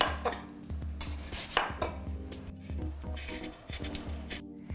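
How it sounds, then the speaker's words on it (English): A knife chops daikon radish for kimchi on a cutting board in quick, steady, close thuds, with a low background hum and no talk. "I'm gonna chop up some daikon radish."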